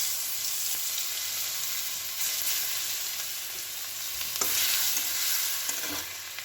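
Onion and garlic hitting hot oil in a wok crackle and sizzle steadily and fairly softly up close, with a few light stirring scrapes.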